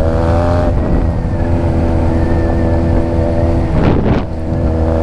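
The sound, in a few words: Honda Rebel 250 motorcycle riding on gravel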